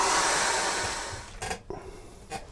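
A hair dryer blows steadily over freshly brushed acrylic paint on a colour chart, a close, even hiss that cuts off partway through, with a couple of short bumps afterward.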